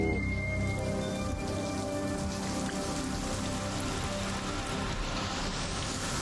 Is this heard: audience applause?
no